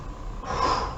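A sharp, breathy exhalation during a seated chair abdominal exercise, short and close, rising in the second half of the moment with no speech.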